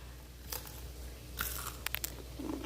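Bites into crunchy fried mandazi, homemade East African fried dough snacks, give a few sharp crunches and crackles close to the mic, with short bursts around the middle and a quieter chew near the end, no talking.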